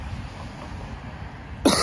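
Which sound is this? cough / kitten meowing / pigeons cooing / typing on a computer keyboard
cough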